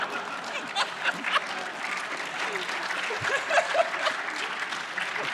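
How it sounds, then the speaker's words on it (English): Audience applause breaks out at a gaming convention panel, a dense, steady clapping wash lasting several seconds with scattered louder claps and faint chuckles mixed in. "I think that's the only time DLC has been applauded."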